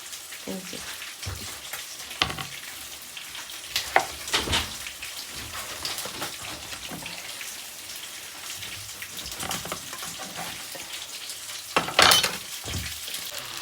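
Fish frying in oil in a home kitchen on a cold winter day, a steady close hiss and crackle with scattered pops and sharper spatters, running alone without talk.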